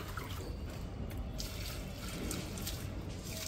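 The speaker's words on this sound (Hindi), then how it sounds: "ऐसा इस पानी को हम लगा देंगे पेड़ के अंदर" Herbal water steeped with turmeric and tulsi trickles and splashes softly onto a plant, a faint continuous pour with light dripping and no talking.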